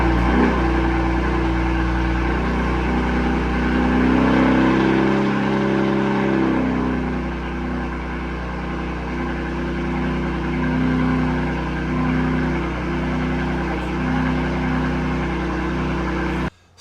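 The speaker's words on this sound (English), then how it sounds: "here is a cold start from this morning on what it sounded like" A cold-started BMW M4 fitted with a single mid-pipe exhaust drones steadily up close, a deep, loud idle that swells briefly around the middle before settling back, with no voices.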